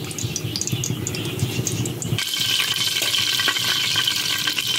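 Whole spices, including cinnamon, bay leaves, cloves, cardamom and nutmeg, hit hot oil for coconut rice. A soft, watery bubbling suddenly swells into a louder, bright, steady sizzle and crackle close by, with no talking.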